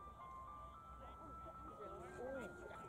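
An ice cream truck's jingle plays faintly in the distance, its melody rising and falling through steady background noise while people talk over it.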